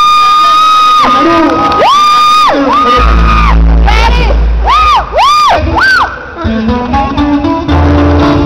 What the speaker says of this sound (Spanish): Aplausos para usted.